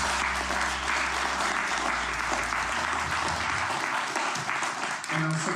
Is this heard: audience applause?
yes